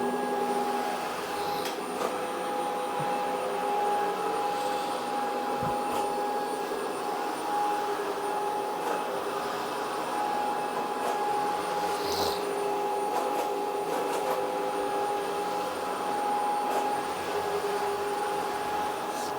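A Dreame H15 Pro Heat wet-dry vacuum cleaner runs across a floor with a steady, close motor drone and a constant whine, holding an even level throughout with no talking.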